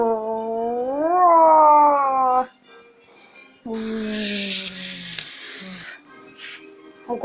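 Cartoon cat letting out a long, rising, wavering yowl, then a second strained cry under a harsh hissing burst, loud and close with short pauses between.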